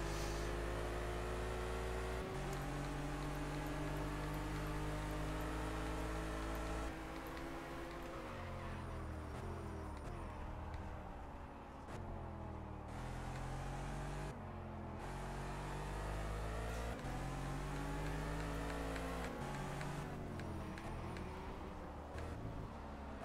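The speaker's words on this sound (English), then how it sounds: "I got a Formula 1 car right at me" Formula 1 racing car engines in the racing video game Project Cars, loud and continuous, with high revving tones climbing and dropping through gear changes across the whole stretch; several cars seem to be running close together.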